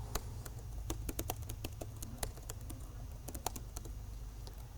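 Fingers type on a computer keyboard, a quick irregular patter of faint, close key clicks with short pauses between bursts and no talking.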